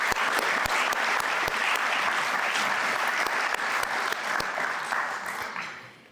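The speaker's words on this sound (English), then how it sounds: "Let's give them a round of applause." Audience applause at a religious liberty gala and awards dinner, steady dense clapping throughout that fades out at the end.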